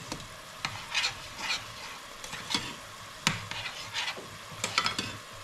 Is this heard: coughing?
no